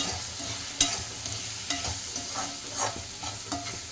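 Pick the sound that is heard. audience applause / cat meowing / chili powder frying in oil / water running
chili powder frying in oil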